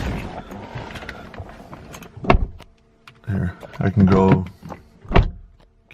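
A BMW E90's one-touch automatic power window motor whirs briefly as the glass rises with the door open, following short speech and a door-area clunk.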